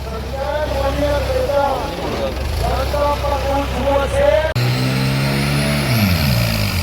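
A nearby tractor engine drones and revs at a village tractor contest, its pitch rising and falling, as voices talk over the running motor.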